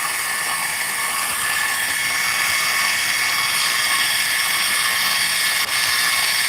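An old-fashioned homemade ice cream maker grinding away, a steady loud mechanical churning hiss that runs continuously throughout without a break.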